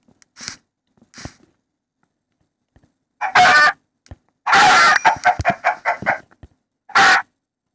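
A rooster crows several times with sharp, loud calls separated by short silences, close by, with some clucking fowl sounds mixed in.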